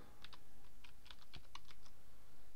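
Keys on a computer keyboard clatter as a file name is typed, a quick irregular run of crisp close clicks, about a dozen strokes in bursts, with no voices.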